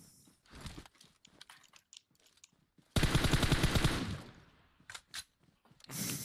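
Gunfire in the battle-royale game PUBG Mobile comes as a dense automatic burst of about a second, with sparse single shots and clicks around it and brief faint game sounds.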